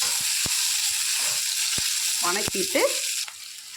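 Chopped onions sauté in a pan for a snake gourd stir-fry, giving off a steady, close sizzle punctuated by several sharp spatula knocks and a short burst of stirring and scraping.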